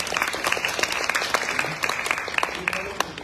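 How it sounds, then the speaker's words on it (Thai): Scattered clapping from an audience at a Thai health report event on stress, fairly quiet and uneven, with distinct claps standing out over a soft background. "ขอเสียงปรบมือให้ด้วยแล้วกัน"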